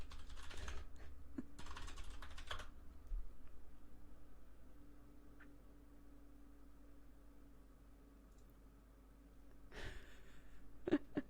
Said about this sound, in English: just put up with my typing for a second. I know, it's loud.